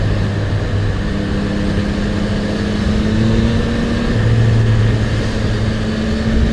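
Steady motorcycle engine drone with a low, continuous hum and road noise while riding, constant and close without pauses, on a day trip to Johor.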